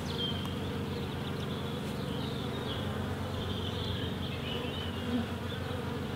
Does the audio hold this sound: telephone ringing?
no